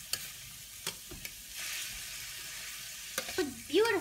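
Shrimp coated in spices is stirred in a hot frying pan for a spring mix and shrimp curry. A steady close sizzle runs throughout with a few sharp utensil scrapes, and a brief voice-like tone comes at the end.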